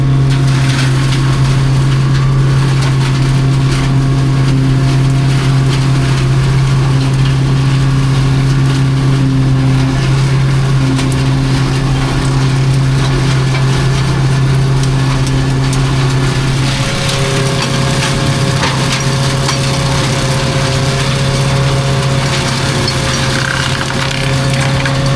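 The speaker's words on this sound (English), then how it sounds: "bit of flailing around the top edge of the reservoir" A tractor-driven flail cutter working along the top edge of a reservoir, with a loud, steady engine drone and a continuous churning hum running throughout, easing slightly near the end.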